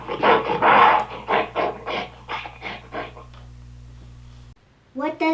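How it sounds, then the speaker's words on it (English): A gorilla gives a run of rhythmic, breathy grunts and hoots, loud and close, fading out before a brief voice at the end. "A gorilla sounds like this."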